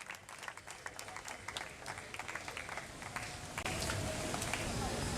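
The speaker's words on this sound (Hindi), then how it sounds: "बहुत सी ताली।" An audience at a Pakistan Defense Day student event at Muslim College Multan claps for a first-position winner, dense continuous applause throughout, steady and fairly distant.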